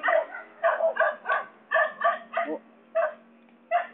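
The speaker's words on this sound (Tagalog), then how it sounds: "Ang dami pong aso. Narinig yung aso ah." Several dogs bark in quick repeated bursts, fairly close, with short pauses between clusters of barks in Bailen; no talking.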